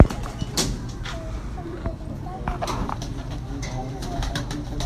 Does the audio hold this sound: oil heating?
no